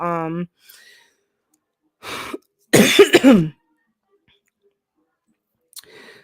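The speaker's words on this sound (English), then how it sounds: "I'm like having to clear my throat a lot." A short throat clearing up close, with a brief vocal sound and faint breaths around it in an otherwise quiet room.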